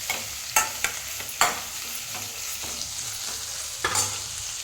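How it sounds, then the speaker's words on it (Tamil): Onions, green chillies and curry leaves sauté with mustard seeds and cumin in a pan for pinto beans, sizzling steadily while a spoon scrapes and stirs in several sharp, clattering strokes. "நீங்கள் பாருங்கள், நல்லா வெங்காயம் பச்சை மிளகாயெல்லாம் வதங்கிடுச்சு"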